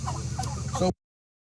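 Farm turkeys gobble and cluck together in a short, loud, close burst of overlapping calls that cuts off abruptly.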